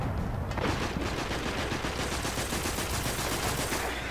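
Sustained enemy gunfire in the Destiny shooter game, dense rapid crackling shots packed together throughout, loud and continuous like automatic fire with no pause.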